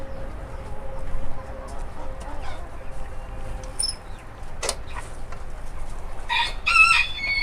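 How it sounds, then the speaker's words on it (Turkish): Silver Brakel and other roosters crow from a barnyard, with hens clucking around them and faint background noise. "horozlar ötmeye başladı arkadaşlar"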